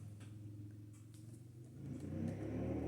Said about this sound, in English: my son has a motorcycle, so I think he just took off if you heard that.